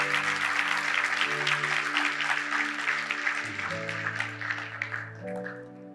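Church congregation applauding the children, steady broadband clapping sustained across the whole stretch under sustained organ or keyboard chords, easing slightly toward the end.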